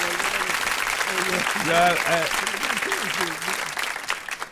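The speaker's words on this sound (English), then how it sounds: "you gotta give her a hand clap" A studio audience applauds a guest on a live radio show, a steady wash of clapping with a host's voice talking over it before the applause fades near the end.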